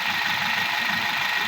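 Engine of a 2011 Hyundai H-1 van idling with a knocking fault, a steady loud mid-pitched drone with faint rhythmic knocking running continuously throughout.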